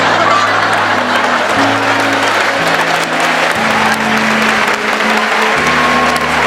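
An audience at a church sermon applauds in a dense, steady wash of clapping that holds loud for several seconds, with sustained low keyboard-like tones running underneath.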